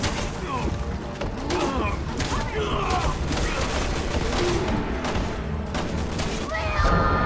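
Rapid gunfire from Resident Evil 6, Leon's campaign on No Hope difficulty, with dense clustered shots and mechanical clatter over a busy, loud game soundscape, repeating throughout.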